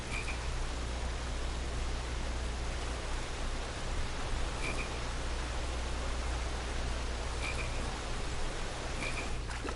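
In the King's Quest video game, a frog croaks in a few short, separate calls over a steady hiss of ambient noise, with no voices.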